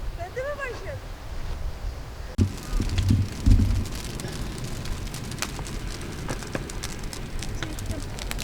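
A campfire burning at a plateau camp on Ercüve highland gives steady crackling and popping with sharp snaps, close by, while people talk over it.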